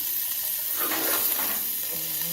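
Butter sizzling hard in a small hot frying pan over a gas flame, a steady bright hiss that stays loud and close for the whole stretch.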